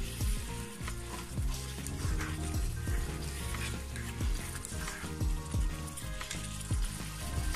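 Spice masala frying hard in a pan for mutton kosha, with black pepper and garam masala powder in it: a steady loud sizzle and a repeated rhythmic scrape of spatula stirring.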